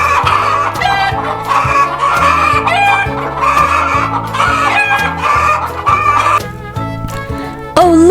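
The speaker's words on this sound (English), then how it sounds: "Do you know what farm animal is this? It's a hen! Right, a hen!" A hen's clucking mixed with rooster-like crowing calls, loud and close, repeating in short bursts over a bright, steady musical background.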